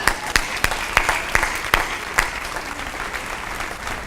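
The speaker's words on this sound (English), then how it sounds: "Oh yeah, let's applaud." Audience applause at a commencement ceremony for the class of 2018, a loud, dense crowd clapping with distinct sharp claps standing out near the start.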